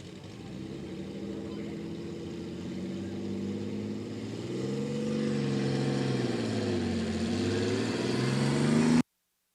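An Oliver 77 tractor with a made-for-Oliver Waukesha six-cylinder engine pulls at a barnyard tractor pull, its steady loud engine drone rising and bending in pitch as it labors under load, growing louder toward the end.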